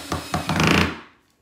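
A power drill gun drives screws into the handles of a DIY wooden tray, giving a few short whirring bursts followed by a longer buzzing run close by that fades away at the end.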